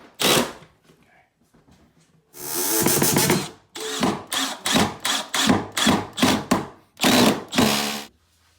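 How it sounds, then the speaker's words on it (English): Power drill bursts while a filler piece is pre-drilled and screwed to an upper kitchen cabinet during a remodel: one short burst, a long run, then a rapid series of short pulses, close and loud with no talk. "hold that filler piece in place while you pre-drill and screw it to the cabinet"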